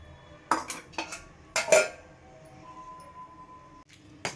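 Boiled potatoes being mashed in a kadai for aloo paratha stuffing, heard as a few sharp metal utensil clinks and scrapes against the pan in separate bursts, with quieter gaps in between.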